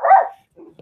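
One loud, close dog bark rings out and dies away quickly. A quieter, muffled bark or whimper follows, with a household of dogs nearby.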